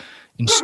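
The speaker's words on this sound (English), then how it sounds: "So that's my dog going nuts." A dog barks and yips excitedly in a home during a conversation, a short burst of loud, close barking following a brief quiet moment after background talk.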